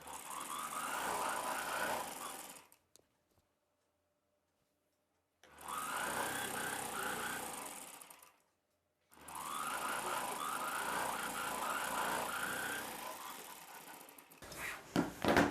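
A sewing machine runs in three bursts while stitching the seam of a sleeveless umbrella dress, its steady mechanical whir stopping in two short gaps with no talk.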